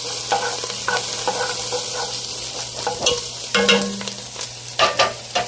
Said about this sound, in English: We're gonna let all these veg sweat down.